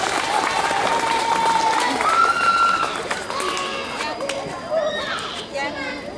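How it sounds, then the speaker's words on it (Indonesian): Crowd applause for a student receiving a trophy at a school flag ceremony, clapping under a loud, melodic voice over a PA, with background chatter from children. "Kita berikan tepuk tangan untuk Mbak"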